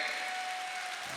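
An audience at a Hindi comedy poetry show gives a short burst of steady, dense applause, heard alone.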